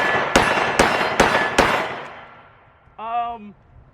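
An AKS-74 rifle test-fires commercial 5.45 ammunition outdoors, with four sharp, loud shots about half a second apart, each trailing into a decaying echo, followed by a short voice.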